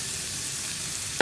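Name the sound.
ginger and onion sautéing with fennel seeds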